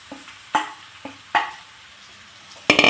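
Jackfruit thoran being stir-fried with a spice mix, a few distinct stirring scrapes and light clatters of a spoon in a pan, spaced apart, ending in a louder sizzle-like rustle.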